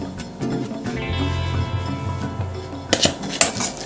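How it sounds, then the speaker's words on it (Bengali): Ripe palmyra palm fruit pulp is grated by hand in a home kitchen, producing rough, uneven scraping and clinking strokes, with background music and a cluster of sharper scrapes near the end. "তালটা ঘষতে একটু সময় লাগবে।"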